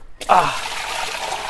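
A bucket of water tipped into a fish tank from the side gushes in suddenly after a moment of quiet, a close, loud splash settling into steady pouring and churning.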